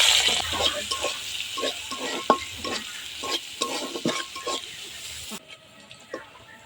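Dried red chilies, onion and garlic fry in oil as a tempering for winter vegetable khichuri, loud crackling sizzle with repeated spatula scrapes against the pan, cutting away near the end to a quieter stretch.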